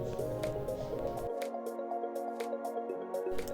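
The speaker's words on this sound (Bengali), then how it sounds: "এবারে খাবার জলটাই যে আমাদের ক্যান কেনা হয় 20 লিটারের, সেইখান থেকেই জল দিলাম" Drinking water from a 20-litre can is poured into a plant container, giving a close, wet splashing and dripping that thins into scattered drops.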